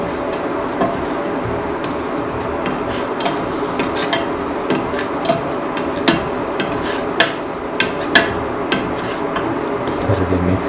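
Egg and cracked wheat mixture with green chilies and garam masala being stirred in a pan, with steady scraping and clinking of a spoon against metal over a faint sizzle.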